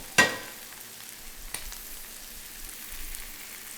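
Garlic dropped into a hot pan alongside collard greens gives a sharp burst of sizzling frying that settles into a soft, steady crackle, with a second small splash partway through.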